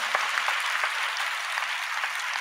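A congregation at a Friday fasting prayer service claps in a dense, even patter of applause that carries steadily from start to finish.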